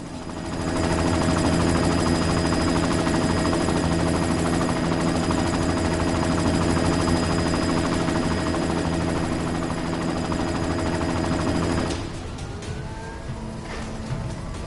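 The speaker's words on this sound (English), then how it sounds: "You've got to stop that chopper" A helicopter in Deus Ex: Mankind Divided roars with a loud, steady rotor-and-engine drone for about twelve seconds, then drops away abruptly to a quieter, thinner rumble.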